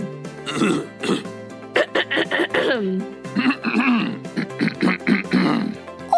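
Repeated harsh throat clearing and hacking coughs, loud and close, in a series of bursts with brief gaps.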